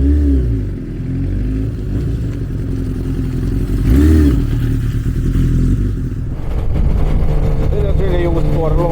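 Suzuki GSX 750ES motorcycle engine droning steadily while riding, a continuous close rumble with a brief swell near the middle, with wind-like roar over it.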